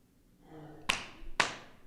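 A woman clapping at a wedding: two sharp, close hand claps about half a second apart, following a soft murmur.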